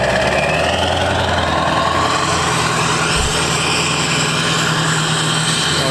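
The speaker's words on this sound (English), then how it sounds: "That truck does sound freaking mean" A heavy truck engine runs steadily in severe cold around negative 42 degrees, a loud, continuous low rumble with a constant vibrating drone and no pauses.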